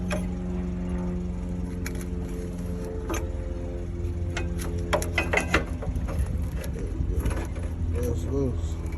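A ratchet wrench clicks while loosening a 14 mm bolt on the battery bracket of a Freightliner 122SD Coronado truck, light metallic ticking under a steady engine or mechanical hum, with someone talking over it.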